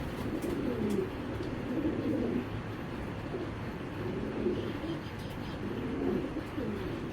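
Racing pigeons from a breeding pair coo in repeated soft, throaty bouts, rising and fading every couple of seconds over a faint background hum, with no voices.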